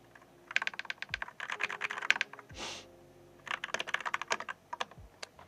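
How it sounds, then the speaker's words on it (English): Someone types on a computer keyboard with quiet, quick, close clicks in two bursts separated by a brief pause and a soft swipe. "Pretty good keyboard, to be honest."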